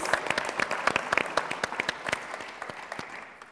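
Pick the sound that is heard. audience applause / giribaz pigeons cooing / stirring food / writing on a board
audience applause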